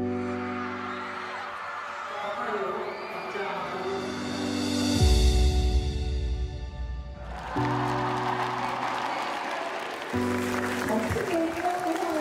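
An audience applauds and cheers at the Busan International Film Festival opening, a broad wash of clapping that rises and falls beneath loud sustained music.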